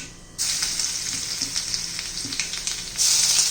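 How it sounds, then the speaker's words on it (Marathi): Mustard seeds splutter in hot oil: steady sizzling with small crackling pops scattered throughout, close up, and a louder hiss near the end. "मोहरी तडतड करायला लागलेली आहे"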